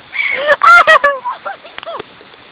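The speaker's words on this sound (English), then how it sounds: "These seagulls are going to kill us." Seagulls on an island give loud, harsh, honking calls in a quick cluster, followed by a few shorter, softer squawks, very close and sounding alone.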